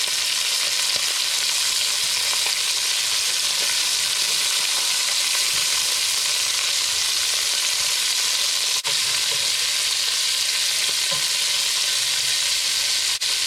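Oxtail pieces brown in a hot frying pan, giving a loud, dense, continuous sizzle and hiss close up, steady throughout with faint stirring, and no voices.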